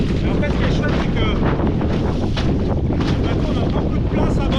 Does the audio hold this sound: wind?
yes